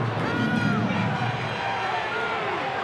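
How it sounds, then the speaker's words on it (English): A rugby league crowd at a Penrith Panthers versus North Queensland Cowboys NRL match rises into excited cheering and shouts after a tackle, a broad swelling roar with a commentator talking over it. "That gets the crowd excited."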